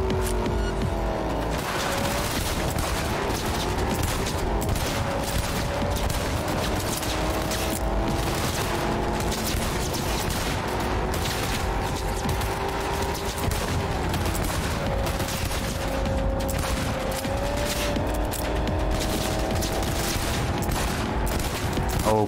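Rapid gunfire rattles nonstop in the video game Cyberpunk 2077, loud and dense, layered over a droning vehicle engine and game sounds.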